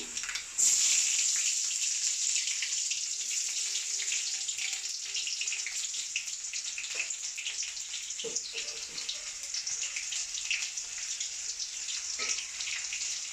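Onions sputter in a hot pan while a prawn and mango curry is cooked. A bright, continuous hiss runs the whole way through, steady and fairly close, with occasional small pops and clinks.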